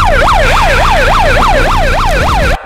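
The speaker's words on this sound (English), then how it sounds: "She has a siren that goes with her megaphone." A wailing siren played through a megaphone during a Star Wars roleplay game, loud and close, rising and falling in a regular cycle about twice a second before cutting off abruptly.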